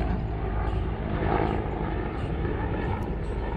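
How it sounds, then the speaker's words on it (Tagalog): A helicopter flies over a neighborhood street near a park, producing a steady, loud, broadband rotor and engine roar that stays constant throughout with no distinct pauses. "Ang helicopter."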